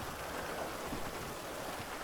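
Steady rain falls in GTA V with the LSPDFR police mod, a dense even hiss of drops with no gaps across the short stretch, fairly quiet and unbroken by any voice.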